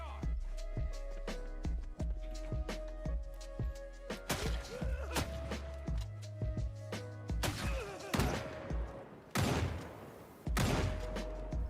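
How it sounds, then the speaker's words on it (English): Project Zomboid gunfire trades back and forth in loud, sharp cracks, scattered at first and then heavier, with several big blasts near the end over a steady low hum. "Cletus mistimed his shot and wasn't able to incapacitate the man, leading to them returning fire."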